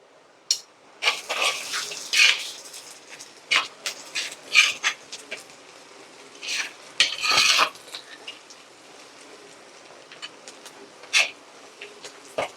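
Curry leaves go into a pan of frying quail, bringing scattered sharp crackles, spatters and metallic utensil clinks at close range over a quiet background.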